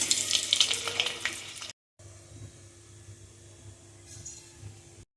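Eggs frying in oil in a pan for Marathi-style egg curry, a bright crackling sizzle up close that cuts off abruptly, then a softer steady frying hiss resumes.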